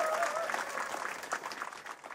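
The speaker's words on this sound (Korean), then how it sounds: "다시 한번 뜨거운 박수로 격려해 주시면 고맙겠습니다." Audience applause fills a song contest hall at the 2024 Gomoryeong song festival as twelve contestant teams stand on stage, a steady dense clapping that carries on throughout and tapers slightly toward the end.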